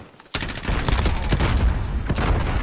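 Grenade blast and dense gunfire in the video game Call of Duty: Modern Warfare, a sudden loud burst followed by continuous rapid shots and booms.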